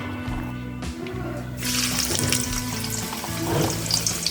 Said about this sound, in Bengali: তেল গরম হয়ে আসছে এখন আমি এর মধ্যে পেঁয়াজ ঢেলে দিব